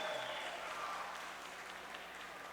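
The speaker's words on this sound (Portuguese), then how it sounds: "Uma salva de palmas para os professores, para os senhores e para as senhoras." Steady applause from an audience at a plenary council session honoring teachers in Rio, a dense wash of hand claps filling the whole stretch with no talk over it.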